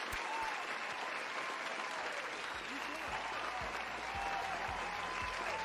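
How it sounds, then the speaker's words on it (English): A crowd applauds in the game Life Is Strange Remastered, a dense, even wash of clapping that holds steady for several seconds, with a voice speaking over it. "Give me a round of applause."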